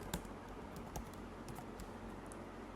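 Code being typed on a computer keyboard: quiet, irregular key clicks close by, with a few sharper taps standing out over a faint steady background hum.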